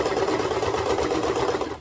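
A sewing machine stitches a child's raglan pajama top, giving a loud, close, continuous whirring drone that stops abruptly at the end.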